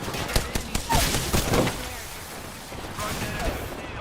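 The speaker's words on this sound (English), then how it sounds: "They're shooting at me." Bursts of rapid automatic gunfire in the battle royale game Apex Legends, clustered sharp shots in the first half and more scattered fire later, with a voice talking faintly over the action.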